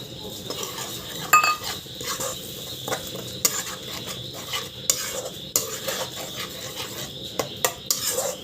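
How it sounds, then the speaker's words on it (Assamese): Ground tomatoes go into a pan of frying turmeric and chili powder for chole and are stirred, giving steady scraping and clinking of a spoon against the pot over a soft sizzle, close and continuous with no talk. "এতিয়া মই পিচি থোৱা বিলাহীখিনি দি দিম।"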